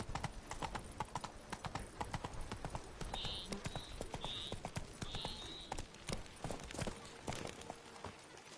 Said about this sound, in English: Come on, Roach. Giddy up.